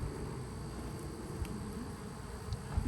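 A bee swarm clustered on a mailbox buzzes in a steady, low droning hum throughout, fairly quiet and close, with occasional faint thumps and no talk.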